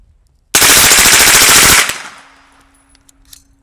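A suppressed 9mm firearm fires a rapid full-auto burst of about a dozen closely spaced, loud muffled reports lasting just over a second, followed by a short decaying echo and quiet.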